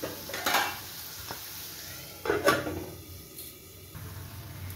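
Salted tomatoes cooking in a pan for vegetarian matar paneer, a soft steady sizzle broken by a few clinks and scrapes of a utensil against the pan, close and fairly quiet.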